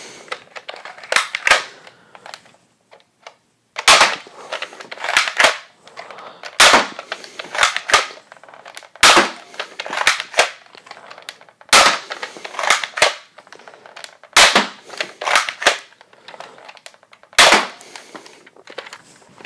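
A modded NERF N-Strike Elite XD Strongarm blaster fires darts into a wall, giving a series of sharp, snappy pops at a steady, unhurried pace, close by, alternating with softer clicks of the priming action and no speech.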